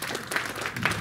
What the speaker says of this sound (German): ein Applaus auch dafür, dass er sich geöffnet hat